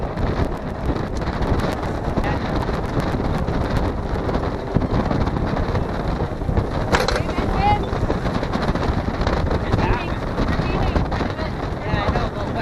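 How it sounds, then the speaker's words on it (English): Gusty wind buffets a sailboat running under a single sail, a steady loud rush of air and water noise that fills the whole stretch with little letup. "That's gusty winds right now."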